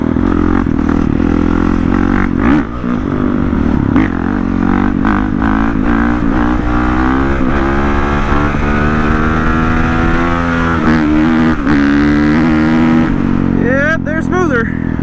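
A dirt bike fitted with new street tires roars loudly and continuously close by, its engine note rising and falling as the rider accelerates, with a brief higher whine near the end.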